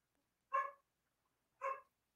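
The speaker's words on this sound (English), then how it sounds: "And the dog wanted to be on the air today" A dog barks twice, two short, clear woofs about a second apart in an otherwise quiet room.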